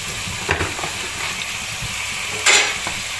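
Turmeric and cumin fry in a pan while being stirred, making a dense, loud hissing sizzle with a couple of scraping strokes, close up and with no voices.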